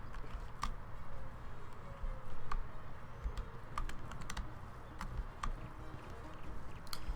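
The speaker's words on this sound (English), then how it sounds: "you can hear the clicking every time I do this" A computer keyboard gives scattered, crisp typing clicks at an irregular pace over a low, steady background rumble.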